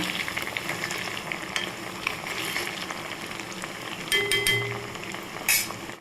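Spiced beef 65 deep-fries in a pan of oil, a steady bubbling crackle close by, punctuated by a few metallic clinks of a utensil toward the end.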